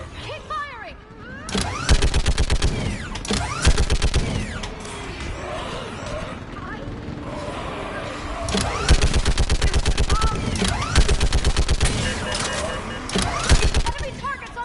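Rapid bursts of automatic gunfire from a Mass Effect 3 battle, loud and repeated in staccato volleys with mechanical clatter, running under shouted combat voices.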